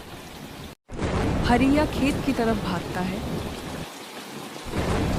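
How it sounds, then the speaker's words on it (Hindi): Heavy cartoon rain pours steadily with rumbling thunder, a dense continuous wash under a narrator's voice, briefly cutting out before returning. "वो देख कितनी बारिश पड़ रही है।"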